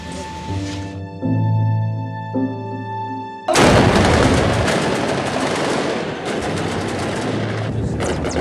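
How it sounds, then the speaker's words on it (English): Loud, dense bursts of gunfire in a conflict zone in Libya crackle continuously after a quieter, tonal opening, with sharp reports layered over a roaring background. "They were firing at us from buildings."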